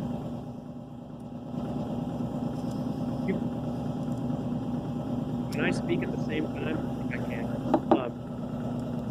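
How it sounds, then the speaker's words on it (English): A freeze dryer pump used for taxidermy hums steadily and continuously in the background, with people talking over it. "that's the pump going in the background of his freeze dryer."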